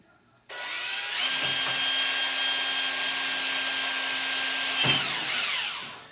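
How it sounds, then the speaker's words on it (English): A power drill whines steadily at high speed for several seconds, close and loud, its pitch dipping briefly as it bites into a vinyl window sash before stopping. "drill a hole into the sash"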